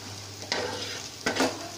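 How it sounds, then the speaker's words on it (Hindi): Browned onions frying in oil for masoor dal, a gentle sizzle with two brief scraping stirs of a spatula, close and fairly quiet. "प्याज साढ़े हुण बिलकुल भुन हो गए ने आ रखो प्याज भी ब्राउन हो गए ने"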